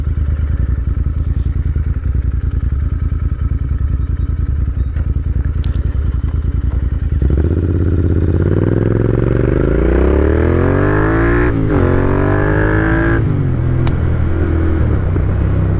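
A Royal Enfield Interceptor 650 motorcycle accelerating: a steady engine drone that swells midway into a loud, rising rev sweeping up through the gears, close and alone with no talk.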